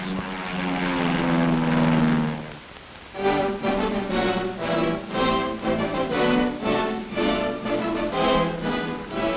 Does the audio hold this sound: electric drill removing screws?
no